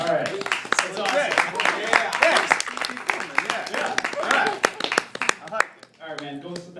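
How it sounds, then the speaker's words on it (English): Audience at a stand-up comedy show in a studio breaking into loud, dense applause with scattered claps and cheers, close and sustained before trailing off, with a voice talking over it toward the end. "give him a round of applause"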